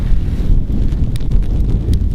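A strong, cold gust of wind outdoors batters a Rode microphone mounted on a Panasonic G85 camera, giving a loud, steady, low rumbling buffet that stays close throughout.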